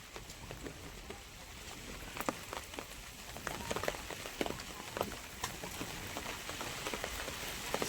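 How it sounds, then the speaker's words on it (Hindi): Light rain falling steadily in a village, with soft scattered drops and taps pattering on a surface against a constant hiss, quiet and even throughout. "थोड़ा धीरे धीरे बारिश होवत है"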